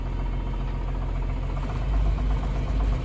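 Engine with a block heater plugged in, idling steadily just after a cold start on a frigid day: a continuous low, throbbing rumble with slight swells, close and alone without speech.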